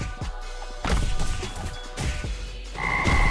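Frogs croak in the Jujutsu Shenanigans video game, loud rough croaks repeating over a couple of seconds with thuds and crashing impacts mixed in, no talking.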